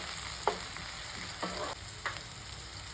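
Tomatoes frying for egg curry give a soft, low sizzle under three distinct scraping stirs of a spoon across the pan.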